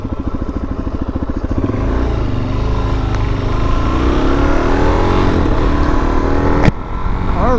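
A motorcycle fitted with a Garmin Zumo XT GPS pulls away and cruises, its engine rising in pitch as it accelerates, loud and close under a steady rumble of wind and road noise.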